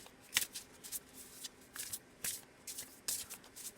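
Tarot cards being shuffled by hand, close and quiet, in a series of quick riffling bursts with brief pauses between them, no talk.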